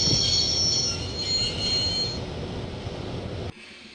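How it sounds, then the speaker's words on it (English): In the video game Broken Sword: Shadow of the Templars, a train brakes to a halt with loud, high metallic wheel squeals over a rumbling rolling roar. The squeal fades midway, and the noise cuts off abruptly, leaving a quiet tail. "I'd always wanted to stop a train, and now was my chance."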